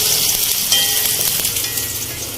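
Chopped onions frying steadily in hot oil in a pan for a dhaba-style masala bhindi, giving a loud, continuous close-up sizzle with no voices.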